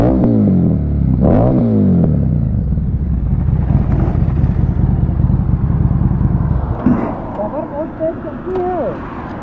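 Two motorcycles in a drag race, a 2024 KTM Duke 390 and a Harley Davidson Street 750, roar loudly as they accelerate. Engine pitch rises through the gears over several seconds, and the noise eases toward the end.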